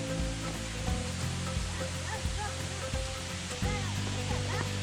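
Continuous rushing wash of a waterfall at a park in northwest Florida, fairly close and steady, with voices talking over it.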